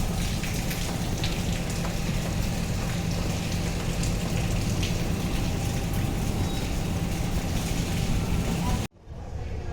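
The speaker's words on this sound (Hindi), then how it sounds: "तगड़ी बारिश आ रही है।" Steady heavy rain drums on a surface, constant and close, until the sound cuts off abruptly near the end.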